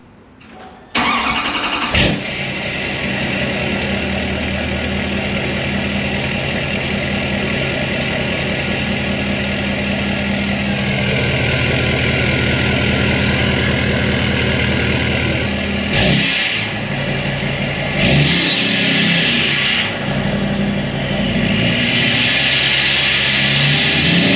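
A 2020-2025 L5P Duramax diesel pickup with aftermarket exhaust cranks and catches, then settles into a loud, rumbling idle with a few sharp revs near the end, no talking.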